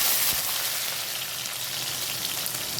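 Cumin seeds and chopped onion fry in hot oil in a pan for a meat ghugni, giving a steady, close, hissing sizzle that fills the whole moment with no talking over it.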